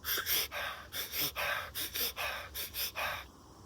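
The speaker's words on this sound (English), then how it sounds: "There is Sufi breathing." Sufi breathing, a breathwork technique: a quick, steady run of about ten sharp, gasping breaths taken close to the microphone, each one short and forceful, with no speech.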